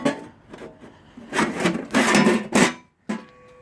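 The metal belly pan of a Bolens 524 snowblower slides into its grooves with scraping, rasping metal-on-metal rubs. Several short pushes build to a louder grinding drag, then there is a brief pause and one final scrape.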